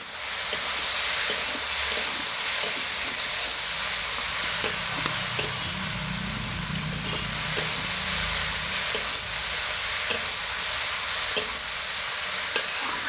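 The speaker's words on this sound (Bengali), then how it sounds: "কচুরলতি আর সব কিছু মশলা একসঙ্গে 2 মিনিট মতো নাড়াচাড়া করে ভেজে নিতে হবে" Taro stolons and spices are stir-fried in a pan with a steady, bright sizzle, broken by regular sharp taps and scrapes of a spatula, close and continuous with no talk.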